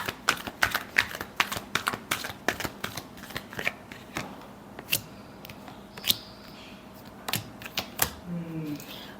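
Tarot cards are shuffled close by in a quiet room, a run of quick crisp riffling snaps and flicks in irregular bursts that thin out toward the end, while someone talks softly underneath.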